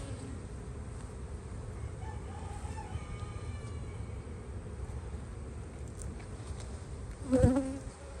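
Honeybees buzz in a steady, moderate hum during a spring hive inspection of larva-filled frames, with a rooster crowing briefly in the distance near the end.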